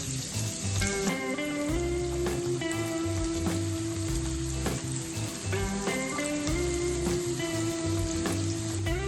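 Crushed garlic and finely chopped onion sizzle in a hot pan for a Maharashtrian ridge gourd and chana dal dish, a steady dense frying hiss running throughout with a few brief clatters, no voices.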